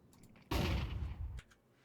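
A flashbang grenade goes off in Counter-Strike on the Dust2 map: a single loud, close burst that lasts about a second, with faint clicks just before and after it.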